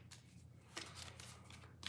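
A deck of cards being shuffled by hand, with a couple of brief riffling bursts of papery fluttering, soft and close in a quiet room, with no talk.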